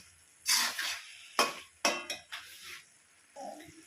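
A spatula scrapes and clatters in a pan as cumin powder is stirred into a cabbage and fish-head curry. Several sharp metallic strokes come at irregular intervals over a faint sizzle, with no talking.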